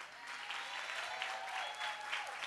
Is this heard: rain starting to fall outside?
no